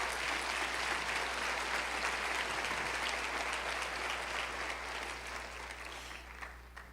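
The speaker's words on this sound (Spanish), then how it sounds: "Denle un aplauso a Jesús." A church congregation gives a long, full round of applause during a sermon, dense and steady with a low hum underneath, gradually tapering off toward the end.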